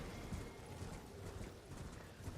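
Hoofbeats of a goat-like horse mount in the video game Elden Ring, a steady run of dense, fairly loud clip-clop thuds over a continuous broadband in-game background, with no talk.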